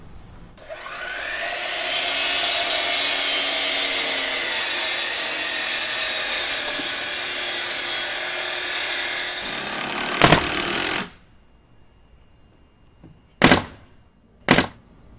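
A power saw cuts through a wood board for a playset. The cut is a loud, sustained whine of about ten seconds that then stops, followed by a few sharp, separate knocks.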